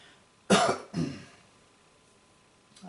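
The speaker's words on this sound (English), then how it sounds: "Excuse me for that cough there." A single person coughs twice in quick succession, close and fairly loud, the second burst softer, then a quiet room with a faint sound at the very end.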